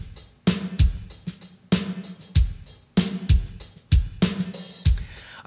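A drum kit with kick, snare and hi-hat plays a steady beat, each hit trailing a short natural room reverb of about one second, close and punchy with no voices.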